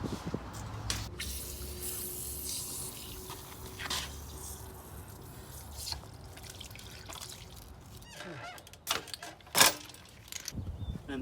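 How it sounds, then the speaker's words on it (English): Water spurts and drips from a power washer gun as its trigger is squeezed after deck cleaning, irregular splashes and trickles with clicks and handling noises, fairly quiet and close. "Now we got to make sure we squeeze the trigger, let the water out"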